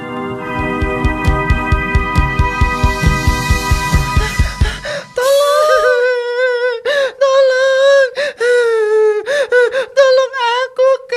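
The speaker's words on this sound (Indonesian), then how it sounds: "Kenapa nafasmu tersengal-sengal begitu?" A voice actor playing a frightened young whale in an animated story pants rapidly and rhythmically for about five seconds, then makes strained, gasping, whimpering sounds in loud bursts.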